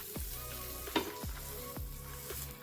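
Dabeli buns toast in butter on a hot griddle. The butter sizzles steadily up close, and a spatula now and then scrapes and clinks against the metal.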